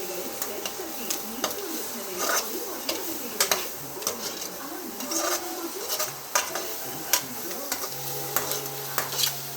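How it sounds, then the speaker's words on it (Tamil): Vegetables sautéing in oil in a pan while being stirred, with soft sizzling under repeated scraping and clinking strokes of a spoon against the metal, fairly close and steady, with faint birds in the background. "நல்லா வதக்கிடலாம்."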